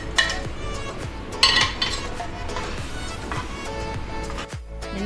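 Crispy fried corn tumbling and scraping onto a serving platter, with light crunchy rustles, a few sharper clinks of utensil on dish, and scattered small clatters throughout, close and moderately quiet.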